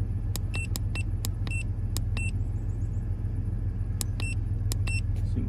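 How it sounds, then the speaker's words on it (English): A car engine idling at around 800 RPM, a steady low hum close by with scattered sharp high clicks and ticks over it and no talking. "the engine's idling"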